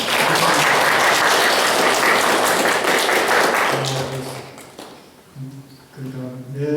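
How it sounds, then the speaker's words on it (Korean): Church congregation at a Korean-language worship service clapping loudly and densely for several seconds, then fading out as voices begin to talk. "미리 한번 박수 한번 칩시다."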